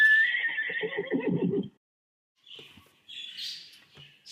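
A toy horse from a pop-up farm animals toy gives an electronic neigh with a bright whinny, about one and a half seconds, followed after a short pause by fainter squeaky electronic snippets.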